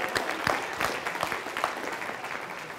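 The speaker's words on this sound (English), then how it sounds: "Let's give her a big round of applause." A lecture audience at a magician's show claps for a volunteer, a dense, steady burst of applause with no talking over it.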